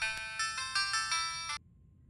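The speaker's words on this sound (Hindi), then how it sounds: "लगता है अभी आपका फोन है।" A phone ringtone chimes in a quick repeating electronic pattern, bright and steady, then stops abruptly, leaving quiet background, in a Hindi-dubbed action movie.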